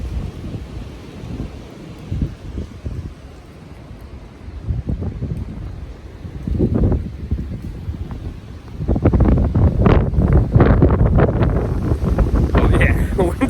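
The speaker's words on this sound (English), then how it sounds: "the wind's picking up now. It's back again." Strong wind gusting outdoors in New York, roaring louder toward the end with buffeting rumble on the microphone, while voices talk throughout.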